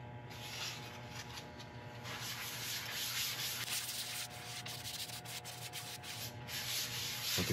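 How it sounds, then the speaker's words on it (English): Cloth rubbing finish into a wooden bowl turning on a lathe, a steady close hiss and scrubbing friction over the continuous hum of the spinning lathe, with no talk. "apply this liberally with a cloth and then rub it in as the lathe is spinning."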